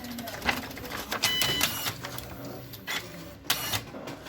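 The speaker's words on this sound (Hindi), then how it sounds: "ये देखिए पेपर पिक कर लिया" Epson PLQ-20 passbook printer feeding in a sheet of paper, giving short mechanical whirs and clicks in a few bursts, close up in a quiet room.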